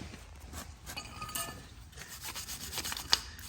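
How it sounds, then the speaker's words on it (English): Rust being scrubbed off a BMW 5-series brake caliper bracket, a steady close-up rubbing and rasping with irregular strokes and one sharp metallic clink near the end, no talking. "just gonna clean up the rust that's on there and grease it up a little bit"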